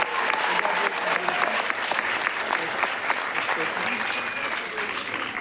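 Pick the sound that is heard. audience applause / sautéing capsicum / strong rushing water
audience applause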